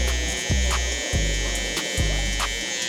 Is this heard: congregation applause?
no